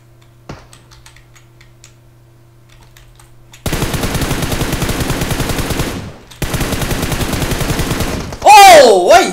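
An MG3 machine gun fires in PUBG Mobile in two long, loud, rapid bursts separated by a brief pause, ending in a sharp rising whine.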